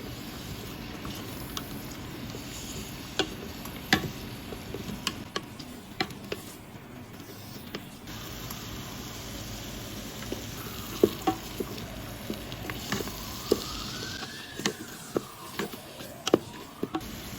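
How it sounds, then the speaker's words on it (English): Button mushroom slices stir-fried with turmeric powder and salt, a steady moderate sizzle with scattered sharp clicks of a utensil scraping and tapping the pan throughout. "Button mushroom slices. Add 1 teaspoon turmeric powder and salt. Stir fry until fragrant."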